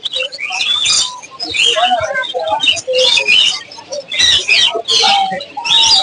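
Caged pet birds at the Mirpur-1 bird market, where cockatoos, budgerigars and lovebirds are sold, chirp and twitter in rapid, busy bursts close by, while people talk underneath.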